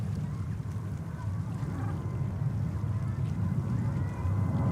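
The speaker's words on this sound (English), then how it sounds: "Ducks and geese, and I'm not an expert in these kind of animals" Ducks and geese honk at a distance around JFK Airport, their calls mixed into a steady low rumble of airport and engine noise that runs the whole time.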